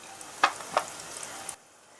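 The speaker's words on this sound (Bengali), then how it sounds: "এবার আমরা এটাকে চাপা দিয়ে মিনিট 2-3 আগে একটা পিঠ ভেজে নেব।" A bitter gourd and potato patty frying on one side in a pan, two sharp sizzling pops rising over a soft steady crackle that cuts off abruptly near the end.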